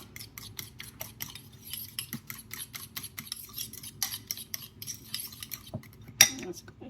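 A utensil stirs and scrapes steadily through a crab mixture seasoned with Old Bay, a rapid run of soft rhythmic scraping strokes close by, ending in a sharper clink against the bowl.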